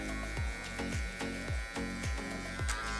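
Electric hair clippers with a half guard buzz steadily during a mid skin taper haircut on long hair, the hum pulsing in repeated strokes about every half second, close and continuous with no talking.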